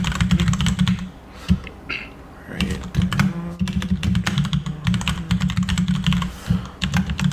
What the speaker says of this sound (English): I can really hear that keyboard jamming away.